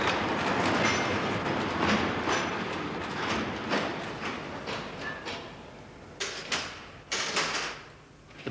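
A small Post Office Underground Railway mail train in London rumbles and clatters along the tracks, wheels clicking rhythmically, followed by a few sharp metallic bangs as it slows.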